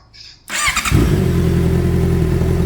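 Honda CBR650R with an IXIL Extreme Carbon full exhaust, silencer still fitted, starting up and settling into a loud, steady close idle after a brief quiet moment and a sharp initial burst.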